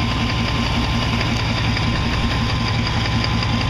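A Chevy engine idles at a steady, close, loud level, its even rumble carrying a rhythmic knocking from a worn rod and a faulty flexplate.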